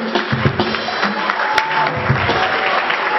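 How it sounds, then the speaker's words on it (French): Guests clapping at a wedding reception, a short burst of fairly loud applause with a muffled, crowded quality and faint voices underneath. "On applaudit encore une fois."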